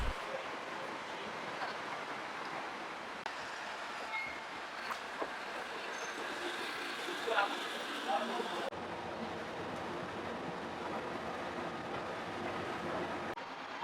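A Hiroshima streetcar runs toward the station, a steady low rumble of wheels on rails with faint squeals and clunks and a brief louder rattle midway, heard from inside at moderate level.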